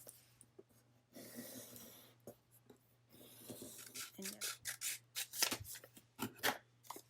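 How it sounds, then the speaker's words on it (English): Pen or pencil scratching across paper to draw a triangle in a crafting session: close, quiet rasping strokes in short bursts, with a steady faint hum underneath. "we're going to draw a triangle"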